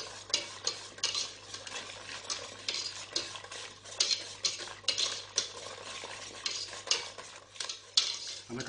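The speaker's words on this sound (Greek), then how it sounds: "Ανακατεύουμε καλά να λιώσει και ο κακάο μας" Steady scraping and clinking of a spoon stirring cocoa into melting chocolate in a pot, busy and continuous with a faint low hum underneath and no voices.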